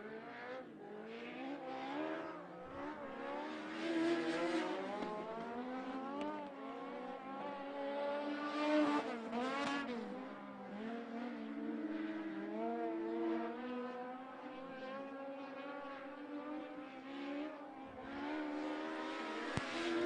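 Race cars lapping Linda's Speedway during timed qualifying, engines droning and rising and falling in pitch as they pass at a middle distance, steady and continuous, with no talk.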